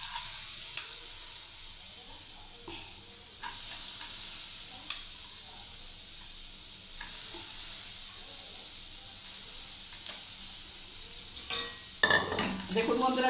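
Whole mung beans fry in a pan with a soft, steady sizzling hiss and occasional faint spoon clicks, then louder stirring and pan clatter near the end; there is a little quiet talk.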